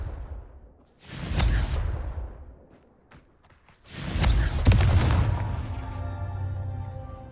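Two heavy blasts from the Confringo fire spell in Hogwarts Legacy, each a loud booming burst with a whooshing rush that trails off, the second followed by a lingering rumble and fading ringing tail.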